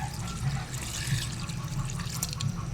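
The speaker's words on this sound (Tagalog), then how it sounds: "Para maluto yung sampalok, lagay natin yung tubig." Water is poured into a cooking pot of chicken with tamarind for sinigang, a close, continuous splashing and trickling that runs the whole time.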